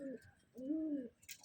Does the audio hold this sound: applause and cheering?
no